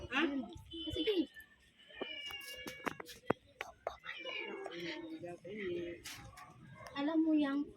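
A house cat meows a few times in a home with potted chili plants, short cries scattered between people talking quietly nearby.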